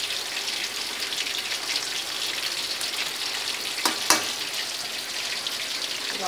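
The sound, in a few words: battered mairo fish frying in oil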